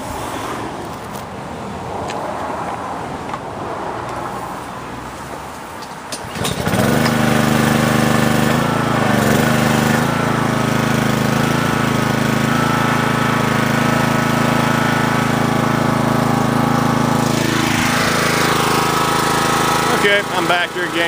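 A Karcher pressure washer's gas engine starts and runs steadily, its loud, even drone with a droning harmonic hum holding through the rest of the clip after some quieter background noise and handling sounds at the start.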